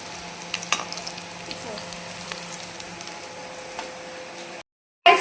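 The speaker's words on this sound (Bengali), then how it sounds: "আর আমি এখানে ভেজে নিচ্ছি সব কটাকে ভালো করে।" Soybean pakoras deep frying with a low, steady bubbling sizzle and scattered soft pops, before the sound cuts off abruptly near the end.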